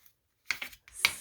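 A torn paper strip being folded for a journal pocket gives a few soft, close crinkles and creases in quick bursts.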